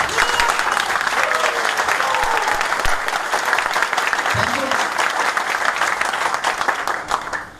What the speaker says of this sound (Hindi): खड़े होकर जोरदार ताली